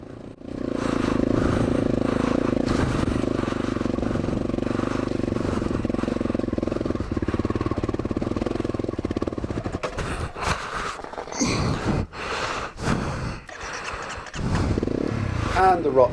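A Honda CRF250L dirt bike engine putters and drones loudly at low revs, then sputters and stumbles with clattering, uneven bursts as it struggles near the end from too few revs.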